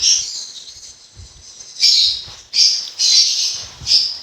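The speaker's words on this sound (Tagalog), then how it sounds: "ingay ng mga ibon mo." Harsh, shrill bird squawks in short bursts, several loud calls in a row with brief pauses, close by and without talk.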